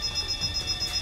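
Blaring alarm in the video game NIKKE, a steady high-pitched electronic tone repeating in a constant pulse over low rumbling background, with no talk.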